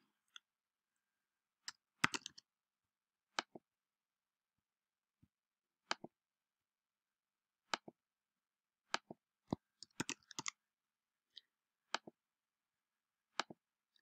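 Someone types on a computer keyboard in a quiet room, producing sparse, faint key clicks in short bursts with long gaps between them.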